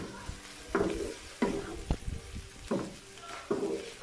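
Beef strips with soy sauce are stirred in a pan for Filipino bistek, giving several scraping strokes over a low sizzle, close and fairly soft.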